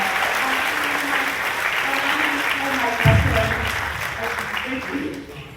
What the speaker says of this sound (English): Please join me in a round of applause for the 2024 Golden Award.